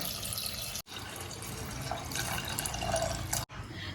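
A steady stream of water pours and splashes into a metal cooker holding potatoes and green peas up close, briefly interrupted twice, with no one speaking.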